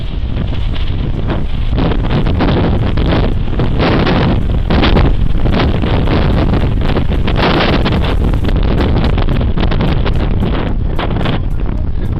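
Strong gusting wind buffets the microphone at an airport, a loud, continuous rumbling roar that swells and dips for the whole stretch, with no other sound standing out.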